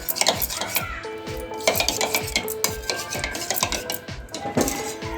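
A spoon stirs custard mixture in a metal pot, with steady rhythmic scraping and clinking of utensil against the pan, close and clear, a faint sizzle beneath and no talking.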